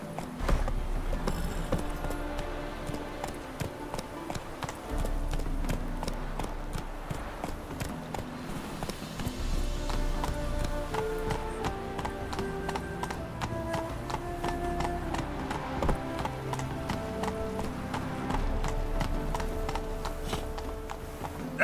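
In The Witcher 3: Wild Hunt, a horse's hooves clip-clop in a fast, steady galloping rhythm over continuous game music, close and prominent throughout.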